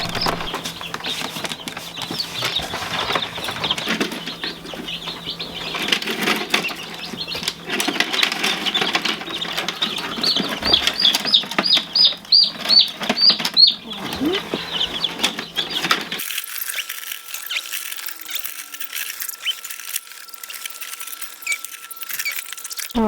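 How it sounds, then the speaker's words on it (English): Ten newly hatched chicks from a dry-hatch incubator cheep in thin, high bursts amid rustling and fluttering, the peeping busiest midway before the background abruptly quiets near the end. "Alright, 10 healthy chicks from the dry hatch."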